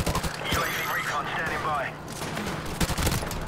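Rapid gunfire in Call of Duty Modern Warfare Remastered, repeated close shots and weapon handling clatter amid hectic battle noise, with a player talking over it.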